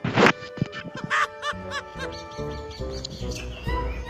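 Chickens cluck and squawk at close range indoors at dusk, a busy series of sharp, irregular calls and louder outbursts with no talking.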